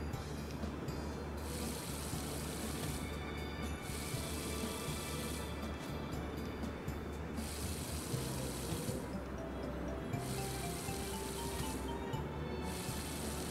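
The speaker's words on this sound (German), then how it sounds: "Jetzt packen wir die Gießkanne aus." A watering can pours water in the Harvest Moon video game, heard as several separate hissing bursts of splashing that start and stop in turn over a low, steady background hum.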